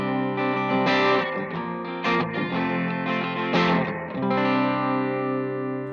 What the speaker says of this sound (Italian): Premendo il pedale seleziono un riverbero spring,